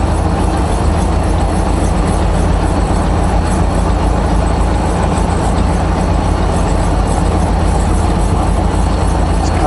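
A truck hauling a curtain-side trailer, probably empty, rolls past on a highway, a loud steady low engine and road roar that holds throughout without letting up.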